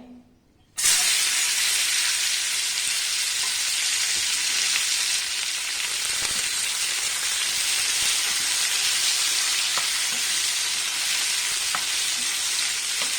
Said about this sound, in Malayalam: ഇനി ഇതിനകത്തേക്ക് നമുക്ക് മാങ്ങ ഇട്ട് കൊടുക്കാം ഈ മാങ്ങ ഇട്ട് നമുക്കതൊന്ന് ഫ്രൈ ആക്കി എടുക്കണേ